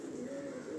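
Pigeon cooing close by, a single brief soft low coo.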